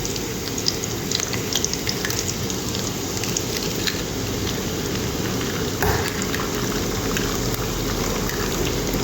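Dense, steady sizzling and crackling of egg poured over sautéed onions in hot oil for an egg paratha, loud and continuous throughout with no talk.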